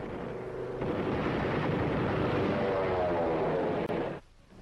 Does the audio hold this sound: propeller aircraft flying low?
yes